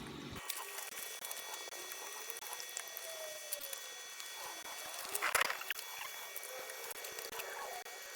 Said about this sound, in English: that's firing the oil straight into the pan